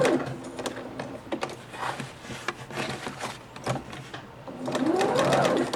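A Janome sewing machine fitted with a black-button leveling foot stitches with metallic thread over a fabric seam, a steady close mechanical whir and rhythmic needle clatter, speeding up near the end.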